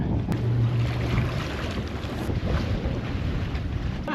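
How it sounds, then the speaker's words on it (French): Strong, constant wind roars across the microphone on a boat at anchor, with a deep rumble and broadband hiss, steady throughout with no voices. "on a rarement eu du vent comme ça constant"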